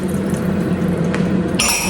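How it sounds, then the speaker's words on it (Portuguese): Cold water, half a cup, poured steadily into a bowl during home cooking, a continuous close splashing and trickling stream without talk. "Vou acrescentar aqui agora, meia xícara de água fria."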